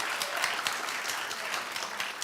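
A television studio audience applauds steadily during a talk show segment, with dense, even clapping filling the whole stretch and no voices standing out.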